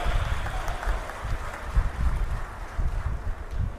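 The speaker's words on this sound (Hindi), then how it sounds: "एक बार संत दुलाराम जी को ताली बजा करके उनको भी याद करना चाहिए" Audience applause at a public event in Rajasthan, a dense, steady patter of many hands clapping at moderate distance, continuous and without speech.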